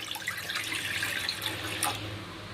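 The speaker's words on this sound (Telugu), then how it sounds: "వాటర్ పోసుకోవాలండి" Water pours steadily from a tap into a kadai set on the stove while cooking palak paneer, a continuous close splashing stream with no talk.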